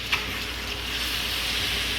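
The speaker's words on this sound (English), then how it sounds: "it's starting to get hard on the bottom, so it's frying on the bottom." Tofu sizzles and crackles steadily in a hot pan, a soft continuous frying hiss with a couple of faint clicks.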